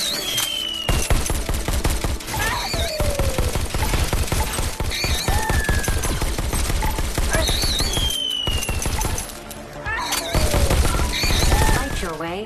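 Rapid gunfire in the VR shooter Robo Recall, bursts of sharp shots blasting robots, dense and loud with brief pauses, electronic whooshes and a commanding voice faintly underneath.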